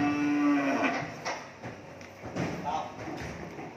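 Cattle lowing at a farm in Mỏ Cày Bắc, Vietnam, with a moo that starts the clip, followed by thuds and scuffling from the herd while people talk in the background.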